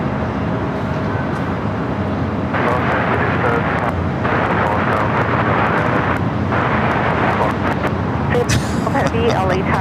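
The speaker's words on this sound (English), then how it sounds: "That flight taking off there on the south side, heading to Orlando, Florida. United Airlines, flight 1621, 737 MAX 9." A United Airlines Boeing 737 MAX 9 jet takes off from the south side at LAX, a steady, loud broadband engine roar swelling and surging throughout, mixed with wind and background traffic, with radio or commentary voices over it.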